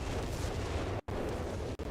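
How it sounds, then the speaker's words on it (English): Artillery shells land in a barrage in the strategy game Company of Heroes 3, giving a dense, continuous rumble of low booms that cuts out abruptly twice, with no voices. "The zeroing arty goes"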